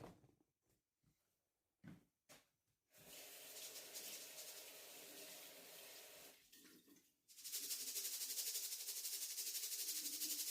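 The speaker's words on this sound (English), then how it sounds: "Get all that water out because you don't want to put that hot oil and water together." Water pours and splashes steadily in a sink as it is drained from rice, with a short break between pours and a stronger rush of draining water near the end.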